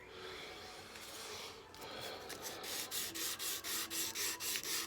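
Hand sanding scale off a forged knife blade: steady abrasive rubbing that becomes a regular series of close, rhythmic back-and-forth strokes in the second half.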